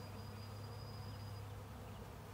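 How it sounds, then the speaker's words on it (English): A dense, steady drone of a honey bee swarm in a cedar tree, a close continuous hum with no pauses and no voices. "No queen, just lots of confused bees."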